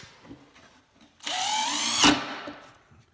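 A power drill drives a 3.5-inch screw into wood while a speed sled is being built: one loud, steady whir lasting about a second after a quiet stretch, ending with a short bite before it stops.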